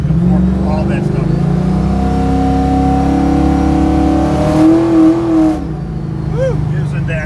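A 1967 Ford Mustang GT Cobra tribute muscle car engine revs loudly and close, with a steady rumble rising into a brief sharper rev near the end.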